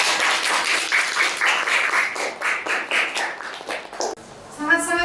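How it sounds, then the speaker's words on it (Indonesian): A classroom audience applauding together, a sustained wash of clapping that rises and dips for several seconds before tapering off, ending with a short voice. "Sudah, berikan tepuk tangan."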